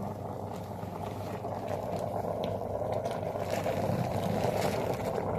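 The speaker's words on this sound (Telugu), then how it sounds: "మ్యాగీ ఉడికింగ్." Maggi instant noodles bubble in water at a steady rolling boil, a continuous close, dense burble that grows slightly louder, with no voices.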